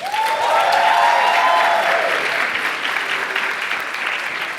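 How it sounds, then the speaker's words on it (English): An audience at a live investing seminar claps together in a loud, sustained burst of applause that stays dense for the whole stretch and tapers only slightly, heard close with no talking. "give yourself a round of applause"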